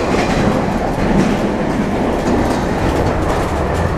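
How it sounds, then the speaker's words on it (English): A train rattles loudly along the rails with a steady rumble and continuous clickety-clack, close and unbroken throughout. "These trains really rock and roll."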